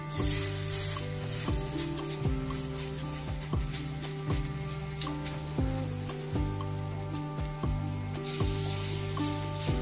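Oil sizzles steadily as fritters of fresh dried-shrimp (jawla) fry in a pan over a lowered gas flame, close and continuous, with no talking.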